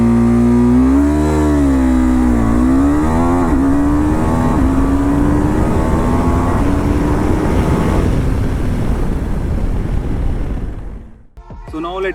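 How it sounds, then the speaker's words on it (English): A KTM Adventure 390 motorcycle accelerates hard through several gears, its single-cylinder engine note climbing, dropping at each shift and climbing again, loud and close, before the wind-heavy roar fades out near the end. "it's time for a quick acceleration test on the KTM Adventure 390"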